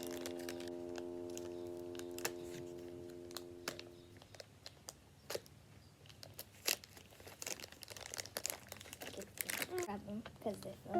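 Toy sticker packs are opened up close, with a tonal hum fading in the first seconds before irregular crinkles, crunches and tearing of plastic packaging grow busier and louder toward the end.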